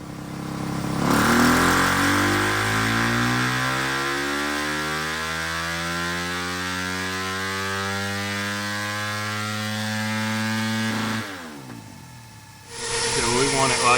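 A Yamaha YZ300FX motorcycle with a 304cc Athena big bore kit revs up on a dyno at 50% throttle, its pitch climbing steadily for about ten seconds before cutting off, then starting again briefly.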